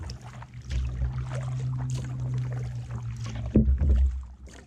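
Paddling a kayak or canoe through calm water in Collier Seminole Park, with soft, steady strokes and faint splashes over a low outdoor rumble, a slightly stronger splash near the end.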